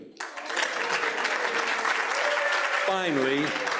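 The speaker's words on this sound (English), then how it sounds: "some applause" Applause from an audience at a Rotary club meeting, steady clapping filling the room, with a voice speaking over the clapping near the end.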